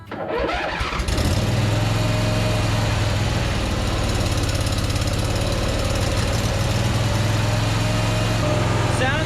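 Craftsman zero-turn mower with a V-twin engine starting up and then idling, a loud, close, steady low thrum that runs continuously after a brief cranking start.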